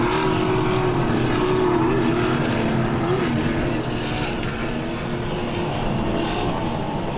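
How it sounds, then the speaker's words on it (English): Offshore superboat racing on open water, its big V8 engines charging away in a loud, steady, continuous roar with a droning harmonic tone that shifts slightly in pitch and fades a little partway through. "Let's listen to those big V8s as they charge away."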